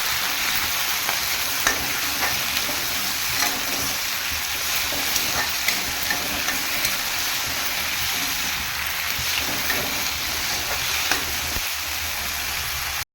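Drumstick leaves and grated coconut sauté in a pan, giving a steady, close sizzle with spoon stirring throughout and no talking.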